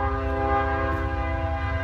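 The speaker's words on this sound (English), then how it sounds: "now I got trains honking at me" A train horn blares in one long, loud, sustained chord close by, with the low rumble of the passing train underneath.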